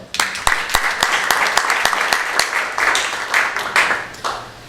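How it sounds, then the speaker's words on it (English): An audience at a talk applauds steadily, dense clapping from many hands filling the room for several seconds. "Let's give a round of applause."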